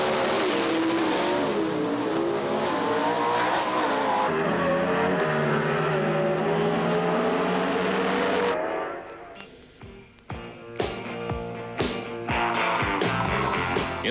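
Pro Stock Sedan drag racing cars at Eastern Creek Raceway roar loudly as they accelerate down the strip, their engine pitch climbing, before the sound drops into scattered clatter and rumbling.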